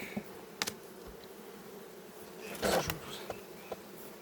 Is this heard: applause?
no